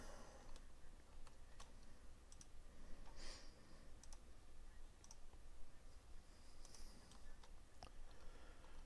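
Quiet, scattered clicks of a computer mouse during texturing work in a 3D editor, sparse and irregular over faint background hiss, with no talk.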